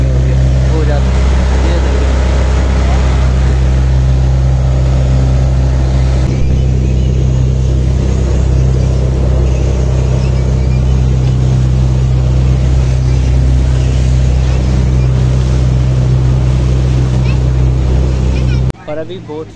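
Motorboat engine on a boat ride across deep water, a loud, steady low drone running throughout with wind and water wash over it, cutting off abruptly near the end.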